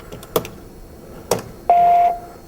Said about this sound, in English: So there's our beep.